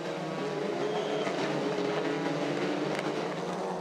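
TCR touring cars racing on a wet circuit, a steady droning engine roar with spray hiss, fairly distant and continuous, no voices.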